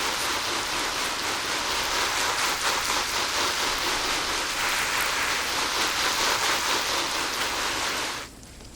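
Water poured steadily over a dry sack to imitate heavy rain, a loud, continuous, dense patter of splashing drops that stops abruptly near the end.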